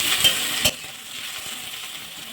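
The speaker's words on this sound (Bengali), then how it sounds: "পেঁয়াজগুলো ভালো করে ভেজে নেব।" Chopped onions frying in oil as they are stirred, giving a steady moderate sizzle with a couple of brief spoon scrapes early on.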